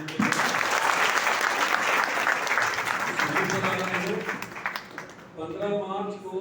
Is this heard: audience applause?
yes